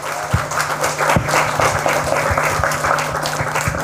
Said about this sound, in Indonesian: Sekarang tepuk tangan untuk Ibu Ivo bersama.